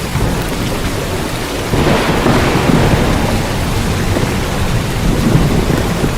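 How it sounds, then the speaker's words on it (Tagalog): Heavy rain pours with a deep rumble of thunder as a sound effect in a Filipino radio ad, a loud, dense wash that swells midway and continues steadily without voices. "Ang lakas ng kidlat at kulob, umulan na."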